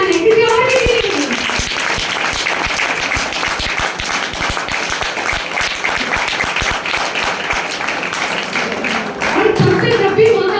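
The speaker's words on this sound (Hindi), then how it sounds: "हम लोग तो जम के ताली बजाएं" A large audience claps steadily and loudly for about ten seconds at a gathering honouring a homemaker turned businesswoman, the dense applause continuous throughout, with brief voices rising at the start and end.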